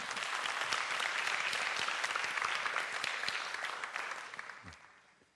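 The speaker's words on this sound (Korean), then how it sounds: "우리 박수 한번 쳐주실까요?" An audience claps steadily for several seconds, a dense round of applause that gradually fades out.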